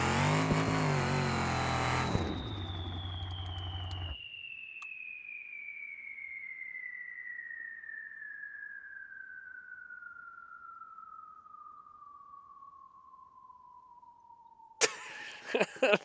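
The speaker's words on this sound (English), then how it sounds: "The turbo's awesome." Turbocharged super car in BeamNG.Drive: a loud engine roar cuts off, leaving a long, thin whine that slowly falls in pitch for about ten seconds before brief bursts of noise return.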